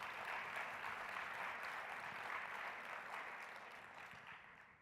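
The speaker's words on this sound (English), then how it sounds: "they all deserve another round of applause for their work" Sustained applause from an audience, a dense wash of clapping that holds steady and then gradually fades toward the end.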